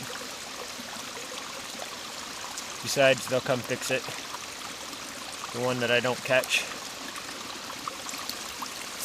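Water flows out steadily as the level is lowered, a continuous close trickling and pouring wash that runs throughout, with someone talking briefly over it twice.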